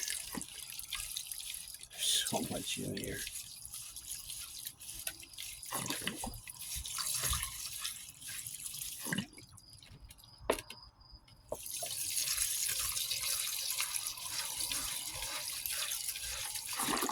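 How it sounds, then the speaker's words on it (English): Water sloshes and pours as a gold pan full of heavy concentrate from a city culvert cleanout is tipped and partly emptied, steady running-water noise with a few clunks, someone speaking briefly over it. "I'm going to take this pan out and empty a little bit of the water."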